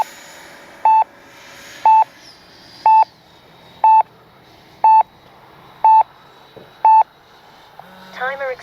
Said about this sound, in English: Timer expired.